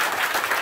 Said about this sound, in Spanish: pero fuerte el aplauso.